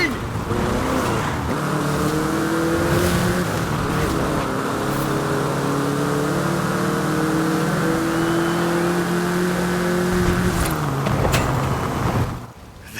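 A Volkswagen Beetle engine racing in Forza Horizon 5 in Mexico: a loud, continuous engine drone that climbs and shifts through gears, close and alone, then cuts off near the end.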